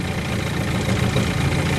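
A motorized boat engine idles on the Cedar River Flow, a steady, fairly loud mechanical rumble that holds constant throughout with no talking.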